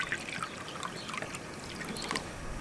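Vinegar and water mixture trickles steadily over tuna pieces in a dish, a faint continuous close pouring with no voices.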